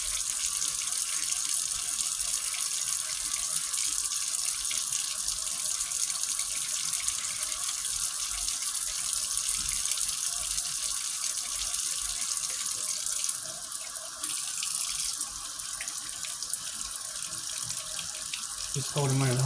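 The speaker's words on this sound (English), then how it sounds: "Just hold them under the hot water for a while," Hot water runs from a tap in a steady, loud, unbroken stream while a doll is held under it to wash out a stain, with a small shift in the flow near the end.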